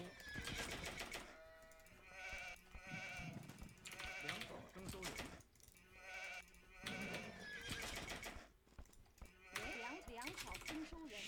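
Sheep bleat repeatedly in an Age of Empires style strategy game while a player playing the Chinese civilization talks over them, the calls clustered in short bursts at a steady, moderate level.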